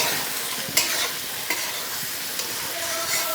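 Turmeric stirring in hot oil in a pan, with a close steady sizzle and three sharp clacks from the spoon against the pan.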